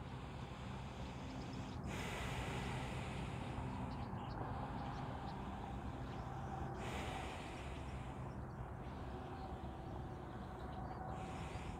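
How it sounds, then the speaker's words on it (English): Three deep breaths in and out during Kapalbhati fire breath with alternate nostrils, each a long, steady airy rush through the nose, close up and continuous, with subtle shifts at each change of breath. "let's take three deep breaths together"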